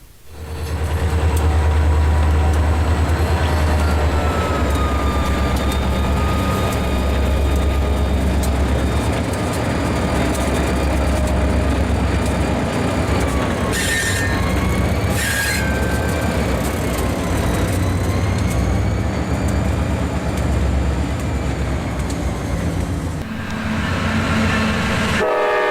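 A Lehigh Railway short line freight train passes at Sayre after interchanging with Norfolk Southern, a loud, close, continuous rumble of engine and rolling cars, with a sustained horn sounding over it and no talk.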